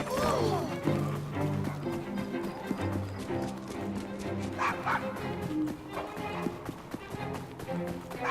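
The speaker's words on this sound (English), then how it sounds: "Nice doggy." Dog barking in the video game Assassin's Creed Syndicate, set outside an old pub, with repeated barks and whimpers over a dense bed of game music and ambience, horse hooves clopping nearby.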